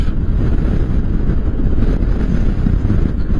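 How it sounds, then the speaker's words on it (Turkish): Loud wind buffets the microphone on a motorcycle ride with a constant low rumbling roar, with no voices over it. "Yani şu anda muazzam bir rüzgar var."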